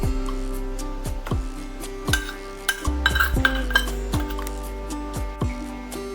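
A metal spoon stirs ground rice into gently boiling milk in a pot while making rice kheer. Close, sharp clinks against the pot fall roughly once a second, with softer scraping and sloshing between them.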